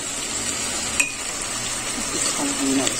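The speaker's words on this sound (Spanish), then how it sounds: "Combinamos todo un poquito" Chicken stew being stirred in a pot with a utensil, giving soft scraping and light sizzling at a low, steady level, with a couple of faint clinks.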